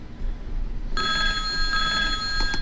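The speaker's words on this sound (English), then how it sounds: "This damn phone." A telephone rings with a bright electronic trill that starts partway in and repeats in short bursts over a low background rumble, and no one speaks.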